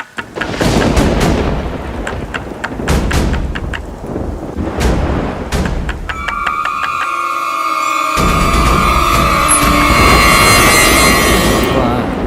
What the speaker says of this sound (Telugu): ఏంటన్నా బయట మంచి వర్షమా విపరీతమైన వర్షం